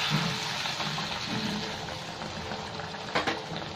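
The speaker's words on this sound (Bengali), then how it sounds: "এবার একটু গরম জল দিয়ে দিচ্ছি।" Hot water poured into a pan where fish head pieces and rice have been frying for Bengali muri ghonto, giving a steady bubbling, hissing sizzle with a brief splashy burst near the end.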